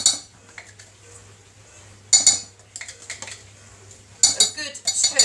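A large spoon scrapes and clinks against a dish while scooping tandoori curry powder and cayenne pepper, in three short bursts of metallic scraping separated by quieter pauses, close up with no talking.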